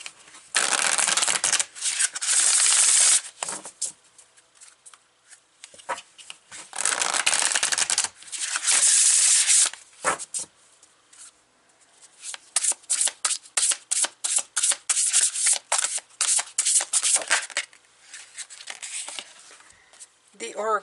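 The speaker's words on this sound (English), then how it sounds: "I'm going to take the Oracle of the Seven Energies. We're going to pull some cards from here." A deck of Oracle of the Seven Energies cards is riffled and shuffled by hand in repeated bursts of crisp, close papery flutter separated by short pauses.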